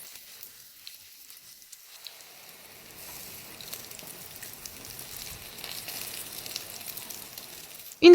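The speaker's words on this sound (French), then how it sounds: "Et après avoir frit d'un côté, retournez et faites frire de l'autre côté." Eggplant slices frying in hot oil make a soft, steady sizzle that starts faint and thickens into a continuous crackle, with a louder clunk at the very end.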